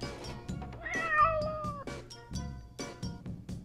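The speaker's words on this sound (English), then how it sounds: "This is a cat." A cat meows in a few drawn-out, wavering cries, close and fairly loud, with some other sounds between calls.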